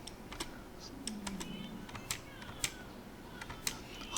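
Someone types on a computer keyboard with uneven, close clicks while entering Cisco switch commands, a few keystrokes landing harder than the others in a quiet room.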